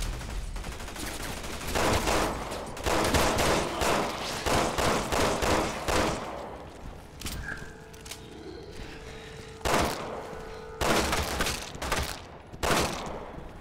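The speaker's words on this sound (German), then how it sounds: "Sherry, du kannst auch mal schießen" Rapid bursts of video game gunfire from Resident Evil 6 crackle loudly in dense volleys through the first half, then break into sparser, separated shots with quieter gaps.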